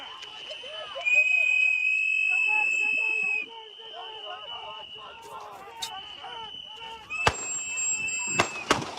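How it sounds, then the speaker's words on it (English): Several sharp, cracking gunshots ring out in the second half, scattered and loud, over voices talking and a sustained high whistle. "Too many gunshots."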